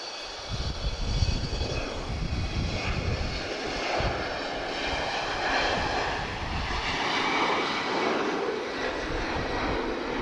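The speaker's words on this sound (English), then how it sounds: "This is an E190 advanced range. She's off to Faru." An Embraer E190 advanced-range jet departs Lisbon Airport bound for Faro, its engines giving a steady, broad roar that swells and rolls on without pause.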